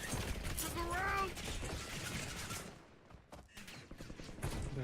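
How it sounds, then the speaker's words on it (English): Video game gunfire crackles in rapid bursts at a moderate distance, with a voice talking over it early on and the shots thinning before picking up again. "De acá están disparando."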